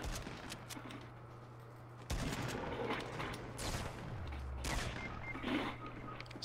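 Rapid bursts of Fortnite gunfire, including minigun fire, crackling in repeated volleys with sharp onsets, some close and loud, others further off, over a steady low hum with no talk.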